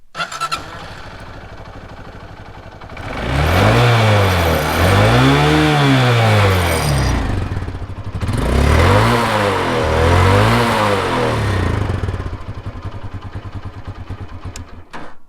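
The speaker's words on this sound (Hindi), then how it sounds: "अब एक काम करते हैं, इसका एग्जॉस्ट नोट सुन लेते हैं" A Hero Honda Karizma R Sport motorcycle idles and then revs hard twice in two long bursts, its exhaust note rising and falling in loud, close sweeps before settling back to idle.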